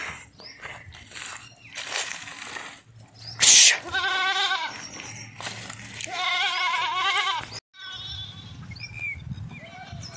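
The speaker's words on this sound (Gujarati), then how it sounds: "એક બકરું નોખું પડી ગયું છે." A goat separated from its herd bleats loudly several times at close range, each call a wavering cry separated by short pauses, with low background noise outdoors.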